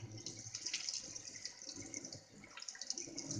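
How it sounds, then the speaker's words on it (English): A kitchen tap runs into a sink as grime is washed off a computer part, making a soft steady splashing flow with small bubbly spatters, faint and close. "So I've got the tap running, and we're just going to wash this junk off."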